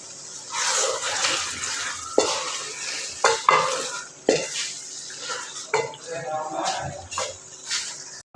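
Keema frying in ghee is stirred with a metal spoon, giving a soft sizzle under repeated scraping and sharp clinks against the pot, close and uneven in rhythm.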